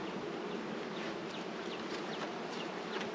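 Honey bees from a strong colony buzz steadily around the hive, a dense continuous drone with individual bees darting close by, no voices present.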